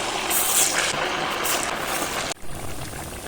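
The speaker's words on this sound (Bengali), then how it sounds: "ভালো করে তেলটাকে গরম করে নিতে হবে তারপরে এই মাছটাগুলো দিয়ে দিবি" Steady broadband hiss and sizzle of fish frying in hot oil, loud and continuous, with a brief dip near the end.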